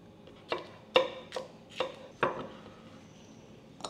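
A knife dices small bell peppers on a cutting board, giving five or six separate knocks spaced about half a second apart, fairly close and quiet with no talk.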